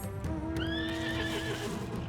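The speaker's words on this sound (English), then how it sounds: "Oh, you're just a regular horse." In Final Fantasy XIV, a horse whinnies loudly with a rising, wavering neigh, over a steady background hum and faint clip-clop.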